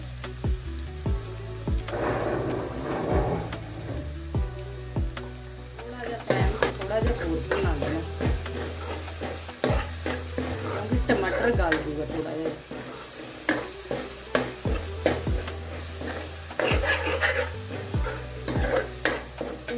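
Chopped tomatoes roast and get stirred in a pan for a soya bean chunk curry, giving a steady low sizzle broken by repeated scraping strokes of the spoon, with a hum running beneath.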